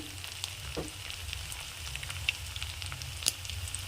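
Ground spices with turmeric, chilli powder and salt frying in a pan for a cauliflower curry cooked without water, a steady soft sizzle with a few faint scrapes.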